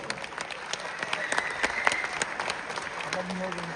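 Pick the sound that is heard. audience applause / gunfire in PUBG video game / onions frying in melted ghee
audience applause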